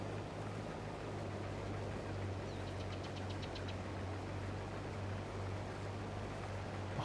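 A used tractor in the Farming Simulator 22 game runs downhill with a steady low engine drone and a faint rhythmic knock, with nothing else over it.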